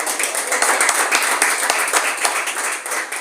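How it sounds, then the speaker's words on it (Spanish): A gathering at a local church bible class claps in appreciation, loud and close, a dense continuous patter of many hands with no talking over it. "pero un gran aplauso"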